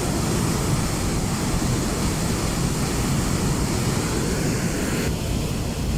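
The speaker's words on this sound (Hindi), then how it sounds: "ये देखें इस साइड से इस कदर शदीद तेज़ पानी गुज़र रहा है यहाँ से" Strong water flow rushes through the gates of Qadrabad Barrage on the Chenab River, a loud, unbroken broadband roar that stays steady throughout, with no voices.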